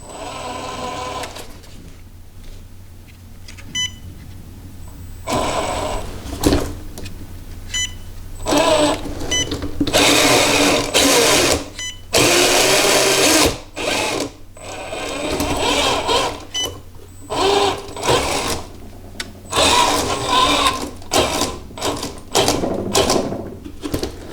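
An FMS FCX10 1/10-scale RC Chevrolet K5 Blazer's gearbox motor whirs in repeated loud bursts of varying pitch as the high-low speed gears change, with short pauses between runs.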